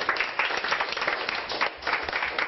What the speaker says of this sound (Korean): 이한테 박수 한 번만 칠까?